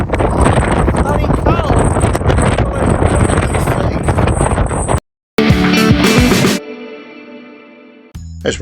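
Strong wind buffeting a microphone outdoors on Kangaroo Island during wet, windy weather, a loud rough rumble for about five seconds, followed by a short burst of other sound and a fading tone.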